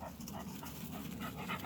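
A black and white female pitbull pants steadily in quick, breathy puffs, close and soft, with a faint whimper-like tone underneath and no talking.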